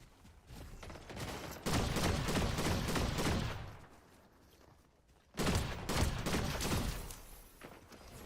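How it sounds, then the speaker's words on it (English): Bursts of gunfire from another player in a shooter video game, two long rattling volleys of rapid shots separated by a quieter pause, heard alone at moderate level. "Oh, we got someone else. Someone else shooting."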